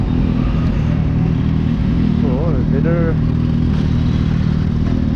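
A Kawasaki Z800 inline-four motorcycle with an aftermarket exhaust runs loud and close on a ride around Dimapur, Nagaland, its engine note droning steadily under a rider's ongoing talk.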